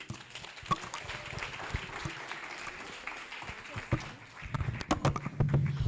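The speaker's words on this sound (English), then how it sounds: "Could we give them another round of applause?" An audience at a summit event in Kenya applauds in a sustained patter of claps that swells louder toward the end, with some voices mixed in.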